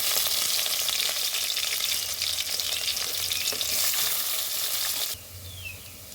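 Masoor lentils fry in oil with chopped onion and garlic, turmeric and salt, making a loud, dense, continuous sizzle close by with stirring; the sizzle drops noticeably quieter near the end.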